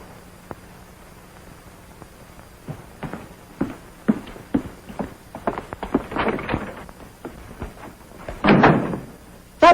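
A door in an old 1952 film scene thuds and rattles as it opens and shuts, a string of sharp knocks and clunks followed by a louder closing bang near the end, with no talking.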